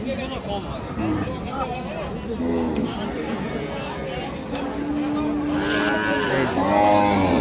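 Sahiwal cows with calves low at a busy cattle market in Ambari, Dinajpur. Deep moos rise over a constant background of crowd chatter and nearby voices.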